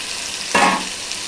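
A chicken curry with reddish-fried onions gets a sudden loud sizzle as it is stirred in a hot pan, a single close burst that fades into a low simmer.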